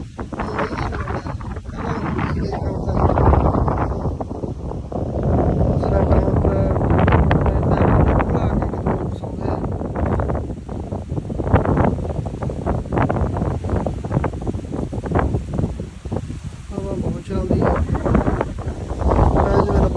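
Strong wind buffeting the microphone in loud, rushing gusts, with rustling and talking faintly mixed underneath for most of the stretch.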